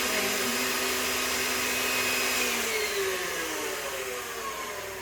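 An electric mixer whipping cookie batter until creamy, a steady close motor whine with a faintly shifting pitch that holds throughout, alone without voices.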